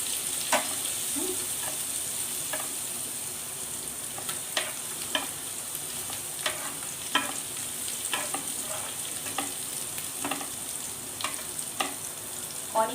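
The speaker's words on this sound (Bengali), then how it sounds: "এটা একটু সটে করে নেবেন, মানে জাস্ট একটু ফ্রাই করে নেবেন।" Chopped green chilies sautéing in a pan for restaurant-style chicken lollipop: a steady, close sizzle with scattered clicks and scrapes of a spoon stirring throughout, no voices.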